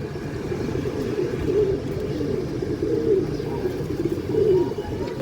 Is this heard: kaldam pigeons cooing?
yes